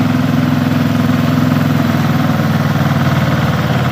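Engine of a pesticide spraying vehicle driving on a tomato farm in Israel, a steady loud mid-to-low idling drone with a constant vibrating hum, close up and alone.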